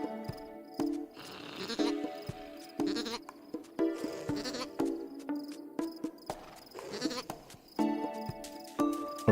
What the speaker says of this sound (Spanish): Ovejas de Minecraft.